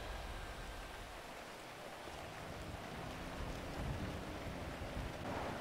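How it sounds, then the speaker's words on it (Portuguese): Steady rain in a video game, a dense continuous hiss of falling drops with no breaks, moderately loud and without speech. "Tá chovendo."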